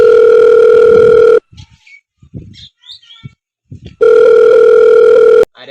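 Two long bursts of telephone ringing or tone, loud and steady, each lasting over a second. Between them sit short, faint sounds with no clear speech.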